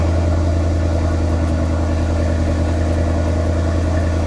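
A Mercedes E63 AMG-S engine, a wrecked car under rebuild, running at a steady, loud, close idle with a deep, even rumble and no talk over it.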